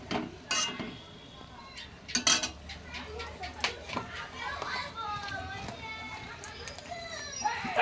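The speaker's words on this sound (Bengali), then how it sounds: "তো আমি ভালো করে নেড়ে চেড়ে নিলাম" Clinks and scrapes of a spoon against a pot as a simmering pea curry is stirred, irregular metallic knocks with a voice and speech in the background.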